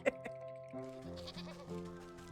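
A sheep in the video game Wytchwood bleats, a short tonal wavering call layered over soft game music, faint and close.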